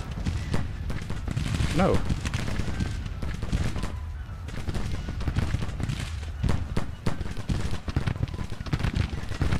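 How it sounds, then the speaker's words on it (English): Civil War artillery bombardment in Grand Tactician, with sustained volleys of cannon and rifle fire crackling and booming throughout, and a voice speaking briefly over the battle. "Artillery's still bombarding this area."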